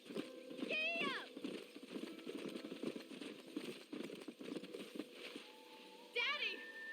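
A horse galloping in the video game Red Dead Redemption, a rhythmic run of hoofbeats through the middle of the clip, with a whinny-like call at the start and a voice speaking near the end.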